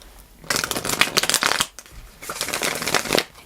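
Tarot cards riffle and shuffle in quick, close bursts, two loud runs split by a brief pause, with crisp papery flutters and taps and no talking.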